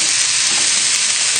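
Fish cassoulet reheating in a pan, giving a loud, close, steady hiss of sizzling that fills the whole moment without a break.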